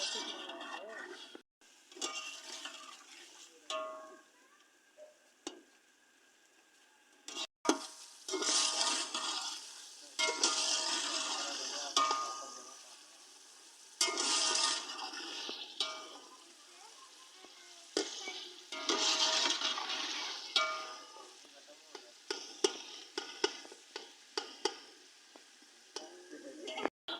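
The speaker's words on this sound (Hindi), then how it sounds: "इसके साथ हम भुनाई करेंगे तकरीबन 2 से 3 मिनट।" Chana pulao ingredients sautéing in a hot pan, a steady sizzle and fry with bursts of stirring and scraping that rise and fall over nearly half a minute, spoon clinks scattered through, close and moderately loud.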